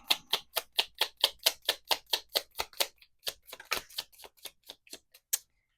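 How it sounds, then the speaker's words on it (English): Tarot cards riffle-shuffled close up, a run of about fifteen quick, crisp snaps in steady rhythm that pauses briefly and then picks up again, with no talk. "Give me 3 cards for soulmate."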